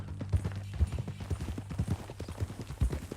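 Hooves clip-clop in a quick, uneven rhythm, close and fairly loud, like a horse walking on hard ground, in the video game Red Dead Redemption 2.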